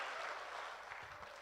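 An audience at an international Urdu mushaira in Jubail claps steadily in dense, continuous applause to welcome a poet, the sound filling the hall evenly throughout.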